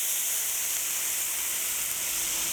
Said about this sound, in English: Now I'm going to deglaze the pan